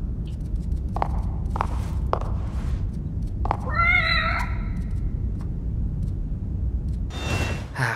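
A cat in the video game The Evil Within gives one clear, wavering meow midway, with soft footstep-like thumps before it and a low background hum, no talking.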